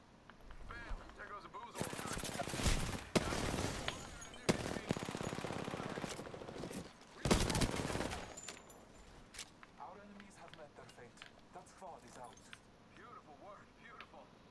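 Apex Legends gunfire in bursts of rapid automatic shots, loud and close, clustered in several heavy volleys separated by quieter stretches, with a player talking over and between them.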